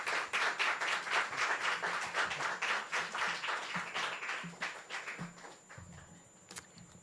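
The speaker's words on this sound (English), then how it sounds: "let's give a round of applause to Martha Ronk." Audience applause at a poetry reading fills the room with dense, steady clapping that slowly thins and fades toward the end, fairly close and loud with no talk over it.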